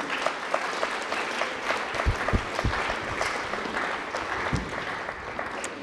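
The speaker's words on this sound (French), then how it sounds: "Vous pouvez l'applaudir." An audience at a French literary event applauds steadily with scattered sharp claps, moderately loud and filling the room without pause.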